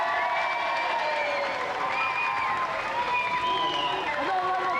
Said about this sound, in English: Another round of applause for our champion